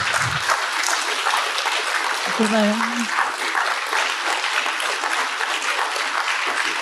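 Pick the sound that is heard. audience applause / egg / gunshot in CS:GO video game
audience applause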